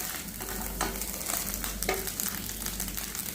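Maggi noodles fry in a pan until reddish, a steady close sizzle with scraping stirring strokes and occasional light taps of the spoon.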